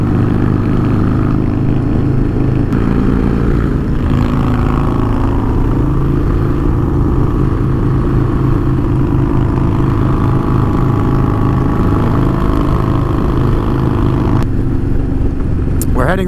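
Two Stage 2 Harley-Davidsons, a Road Glide and a Low Rider ST, racing with loud, continuous V-twin engine roar and shifting revs, heard close up from on board with heavy wind noise throughout.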